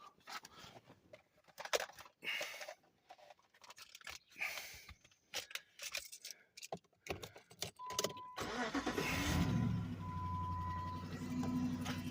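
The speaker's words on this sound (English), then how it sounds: "You want to start your engine up. So start my engine." Car engine cranking and catching after a stretch of rustling and handling noise, then settling into a steady, close idle with a faint tonal whine; no talk.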